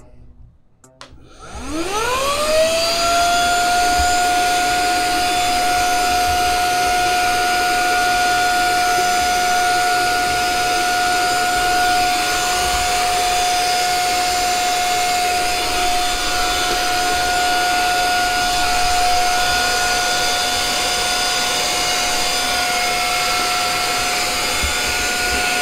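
Brigii M1 mini vacuum, a small handheld unit, spins up with a rising whine and then runs at a steady high-pitched whir close by for over twenty seconds while cleaning residue off a floor.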